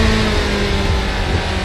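A Corvette ZR1 engine roars steadily at full power, a dense continuous drone accelerating hard without letup.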